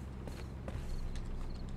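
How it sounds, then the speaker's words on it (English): Footsteps crunch over grass in the horror game Paranormal Cleanup, a soft irregular patter of steps heard under a constant low background hum. "I'm hearing straight grass footsteps"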